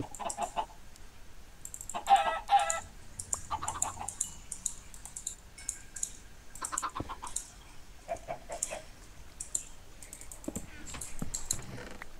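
Several chickens cluck in short bursts on and off in a video game, with scattered clicky tapping noises in between.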